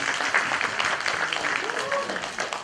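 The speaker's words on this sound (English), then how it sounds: "A round of applause for him." Audience applause at a literary festival, a dense steady patter of many hands clapping throughout, filling the room at moderate loudness without any talk over it.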